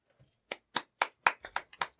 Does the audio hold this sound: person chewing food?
no